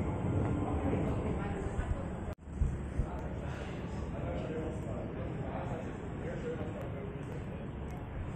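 An MRT metro train runs near Great Wall station outdoors on a windy day, producing a steady broad rumble with a brief abrupt dropout partway, while people talk over it.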